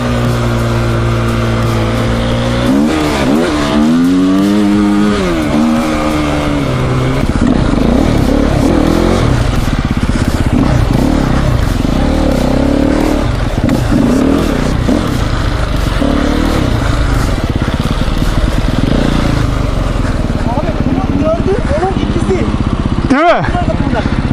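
Close-up four-stroke enduro motorcycle engine revs and bursts through the throttle during off-road riding, loud and continuous with clattering moments and a rider speaking over it.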